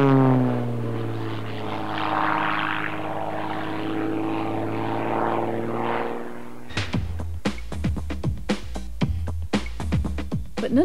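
A propeller airplane flies overhead with a steady, droning engine hum that shifts in pitch, then gives way to a rapid series of sharp, close mechanical pulses.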